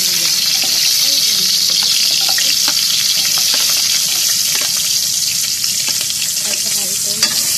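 Tomato and onion sauté in a pan for a Filipino taro dish with ginger, giving a steady, loud sizzle, with scattered stirring clinks and scrapes throughout.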